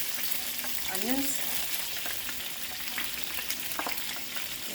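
Onions tipped into a pan of bite-sized sausage pieces set off a steady, close sizzle and frying hiss, with a short stirring scrape early on and no talking.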